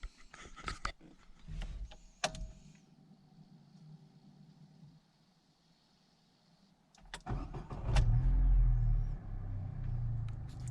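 An MG 5 sedan's engine is started: a burst of cranking and ignition noise, then a steady low idle rumble that continues to the end, heard close from inside the car.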